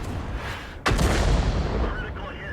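A tank gun firing in World of Tanks, a single sharp boom with a rumbling tail that carries under the game's background noise.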